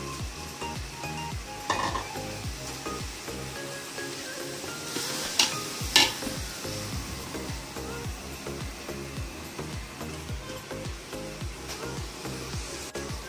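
Chicken pieces sizzle steadily in a pot while being stirred, a constant frying hiss with a few sharper scrapes and clinks of the utensil partway through, close up and with no talking.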